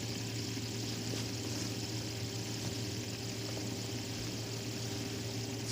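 A fidget spinner keeps spinning in a steady, faint, unbroken whir that holds an even tone for several seconds, with no voices.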